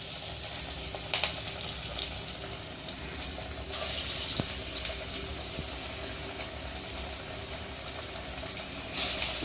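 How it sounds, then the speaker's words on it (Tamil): Flattened prawn vadai dough dropped into hot oil in a kadai, sizzling and bubbling steadily with soft splashes and a brighter burst of frying partway through. "உருண்டை பிடிச்சி வச்சதை அப்படியே தட்டி தட்டி கடாயில் போட போகிறோம்."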